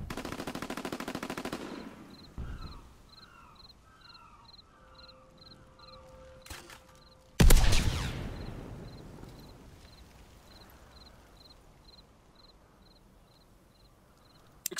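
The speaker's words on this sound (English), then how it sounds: "Taking heavy fire!" Heavy gunfire in Call of Duty WWII: a fast machine-gun burst at the start, then a loud close blast that rings and fades, with scattered distant shots and a steady beeping tone behind.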